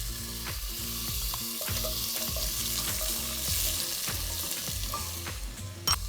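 Vegetables sizzle steadily in a hot pan, with repeated scraping stirs of a spatula and occasional clinks cutting through the frying, close and continuous with no talking.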